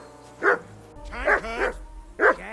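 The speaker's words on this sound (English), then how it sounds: "That barking was a pain in the ass." Three loud, close dog barks from Kingdom Come: Deliverance II, spaced roughly a second apart over a low background hum, with no talk in between.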